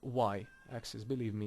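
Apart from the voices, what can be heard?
cat meowing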